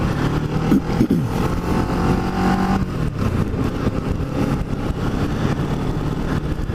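A Kawasaki Ninja 650R motorcycle ridden along Bayshore Road near North Cape May, its engine droning steadily with small shifts in pitch under constant wind rush, no talking.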